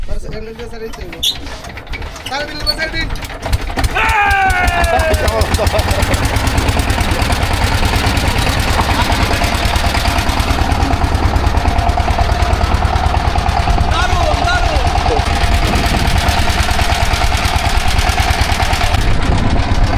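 Boat engine at Dilalpur steamer ghat starting up and settling into a loud, rapid, steady chugging close by, with someone talking over it.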